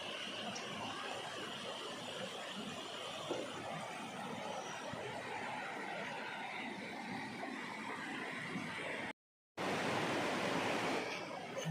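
A steady broadband rush of a clear river flowing through a Konkan village, continuous and fairly loud, with no talk and one brief dropout near the end.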